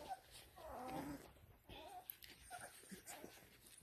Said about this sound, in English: I love this puppy.